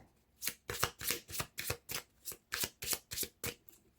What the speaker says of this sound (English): So now we have to shuffle.